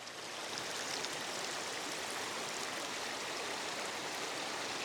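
Floodwater from snowmelt rushes steadily across a flooded farm road turned river, a continuous broadband roar of moving water that holds an even level throughout with no voices.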